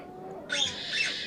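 A brief harsh squawk from a bird starts abruptly mid-clip and carries on, fairly close, over a quiet background.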